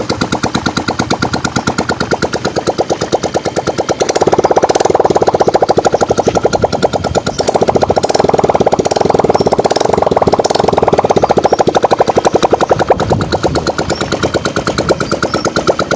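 A repaired Honda Click 125 scooter engine runs steadily after its oil and smoke problem was fixed, a loud, close, rapid mechanical putter that swells louder in the middle as the throttle is raised, then settles back.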